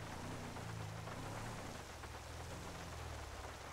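Steady rain falling in the video game GTA 5, a dense, even hiss that holds loud and close for the whole stretch, with a low rumbling layer underneath and no voices.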